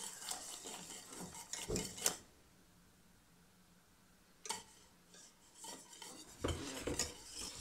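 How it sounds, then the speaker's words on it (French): A utensil stirs thickening cream in a pan for a chocolate cake, scraping and clinking in bursts separated by a quiet stretch. "Surtout pendant 1 minute, vous n'arrêtez pas de mélanger."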